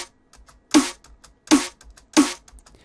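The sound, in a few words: snare drum hit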